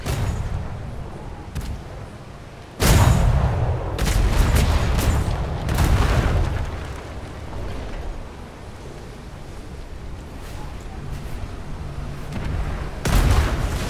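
Ship cannons fire in the Atlas game during a battle with a brig, a loud close volley of deep booms followed by rumbling repeated blasts and several more distant shots over about fourteen seconds, with no talking.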